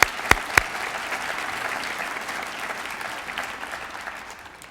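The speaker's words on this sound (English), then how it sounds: "Let's give each of them a round of applause." Audience applause at a teachers' award ceremony, a steady wash of many hands clapping after two sharp louder claps at the start, holding evenly and fading slightly at the end.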